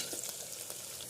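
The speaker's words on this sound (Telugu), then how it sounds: "ఇంకా బాగా బ్రౌన్ కలర్లో అయితే ఫ్రై అవ్వాలి" Sliced onion fries in a pan for haleem, giving a soft, continuous sizzle with faint stirring crackles, quiet and close, with no talking.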